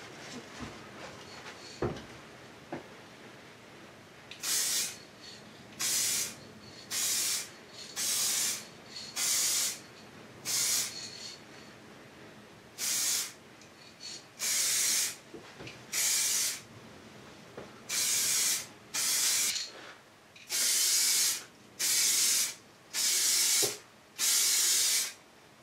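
Spray gun laying a coat of paint onto body repairs on a Kadett car under restoration, in a series of about a dozen short hissing bursts, each a second or so long, separated by brief pauses, close and fairly loud.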